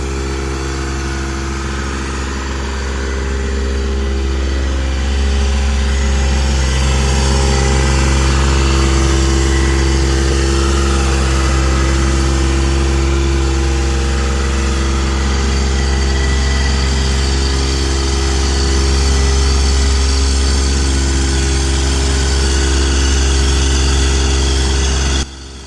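A Toro Dingo mini skid steer's engine runs nearby in a tight backyard, a loud, steady low drone that swells slightly after the first few seconds and holds, then cuts off abruptly at the end, with no talk.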